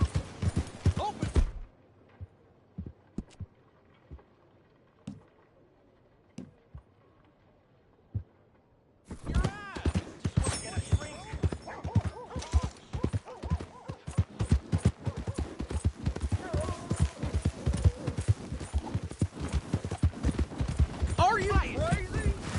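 Horse hooves clip-clop in Red Dead Redemption 2, a rhythmic trot that stops for a quiet stretch and then resumes busier and louder, with character voices talking over the hoofbeats.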